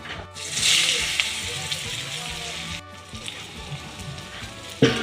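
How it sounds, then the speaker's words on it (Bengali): Prawns frying in a wok give a bright, close sizzle that rises and falls, broken by brief pauses and a sharp clank near the end, with some talking over the cooking. "চিংড়ি মাছগুলো ভাজা হয়ে গেছে"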